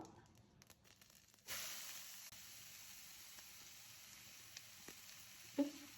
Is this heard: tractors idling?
no